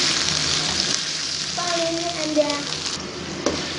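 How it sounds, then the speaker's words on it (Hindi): Machine-ground minced meat frying in a pan while being stirred for keema chana pulao, a steady close sizzle with scraping stir sounds and a brief voice partway through. "अच्छे से हम इसकी यहाँ पे मिक्सिंग कर लेंगे, भुनाई करेंगे कीमे की।"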